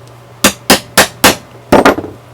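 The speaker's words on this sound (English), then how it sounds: "Picked up the wrong hammer." Four sharp hammer blows at a steady rhythm, then a quicker cluster of several lighter strikes, loud and close with a faint hum underneath.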